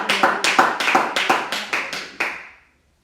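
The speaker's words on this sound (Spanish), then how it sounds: "Denle un aplauso en esta hora." Rhythmic clapping from a congregation at a Spanish-language Bible study service: about a dozen sharp, evenly spaced claps in unison, loud and close, ending abruptly into silence.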